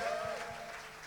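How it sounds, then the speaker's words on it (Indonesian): Church congregation applauding during a worship service, a dense wash of clapping that holds steady and then slowly fades, with a faint sustained tone underneath. "Boleh sekali lagi tepuk tangan dan aplausnya buat Yesus kita yang dahsyat"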